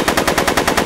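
Rapid machine gun fire from the Back to the Future video game, a loud close burst of about nine evenly spaced shots in under a second, with no talk over it.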